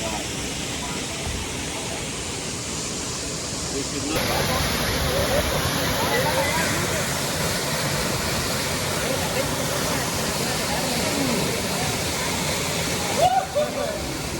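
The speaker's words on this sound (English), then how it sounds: "Today the water was flowing pretty rapidly" Constant heavy rush of a waterfall near Quimixto, Puerto Vallarta, flowing rapidly, a dense steady roar throughout with no pauses.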